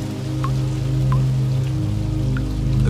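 Rain falls continuously as an audiobook sound effect, a loud, even patter of raindrops on a surface with a few distinct drops standing out, with no voice over it.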